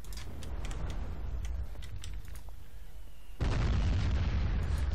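Mortar fire and shell explosions in Company of Heroes: scattered booms and pops at first, then a sudden sustained roar of heavy blasts near the end.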